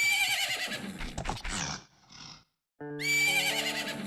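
Epona, the horse in the video game Majora's Mask, lets out a loud, close whinny that rises and trails off, followed by a short gap of silence and then a burst of bright game music.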